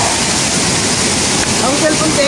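Mantayupan Falls in Cebu, a 98-meter waterfall, pours as a loud, dense, steady roar of rushing water, with a voice faintly talking underneath.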